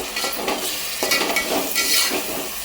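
Keema curry with turmeric is stirred in a hot pan, its moderate sizzle punctuated by a few close, bursting scrapes and clinks of the spoon.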